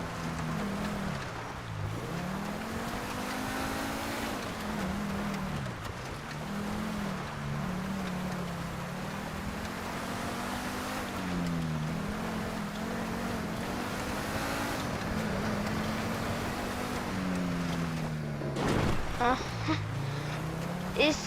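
A car's engine in the video game GTA 5 drones continuously on a snowy drive up Mount Chiliad, its pitch rising and dipping as it shifts and accelerates, with a voice talking over it.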